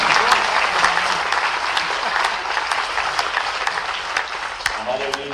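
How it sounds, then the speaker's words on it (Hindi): An audience claps continuously at a sports festival for athletes with disabilities in a police line stadium, a dense crackle of many hands, while someone talks over the applause through a loudspeaker. "ताली वाली जरा दिल से बजाओ"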